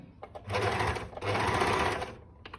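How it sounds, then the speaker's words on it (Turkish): Singer overlock sewing machine stitching fabric in two quick bursts of fast, dense mechanical whirring, close and loud, with a brief pause between runs and no speech. "Sıktıktan sonra buradan başlıyorum dikmeye."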